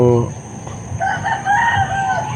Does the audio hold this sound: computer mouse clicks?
no